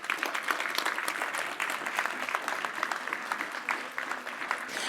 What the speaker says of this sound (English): If I can ask for a big round of applause as well to all the nominees